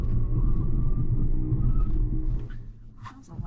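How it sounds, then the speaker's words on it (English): A Lexus RZ 450e electric SUV brakes as hard as possible from 60 mph, its ABS pump buzzing loudly with a rough low pulsing as the tires roar against the road, heard from inside the cabin, then fading to quiet after about two and a half seconds. "But holy smokes, the pump, the ABS pump is so loud. And the tires, of course, are pretty loud as well."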